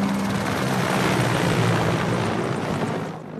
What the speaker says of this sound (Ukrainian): Тим часом в небі над полігоном з цією самою метою ширяють винищувачі.